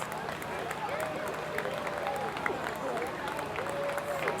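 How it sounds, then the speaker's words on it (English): A parade crowd on its feet applauding veterans at a Fourth of July parade in Hoffman Estates, steady distant clapping spread across the scene, with voices and chatter mixed in. "we see the crowd on their feet standing and clapping"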